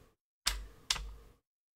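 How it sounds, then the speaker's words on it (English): Two loud, close key clatters on a computer keyboard about half a second apart, each trailing into a brief rattle, then silence. "Apologies for this loud keyboard sounds."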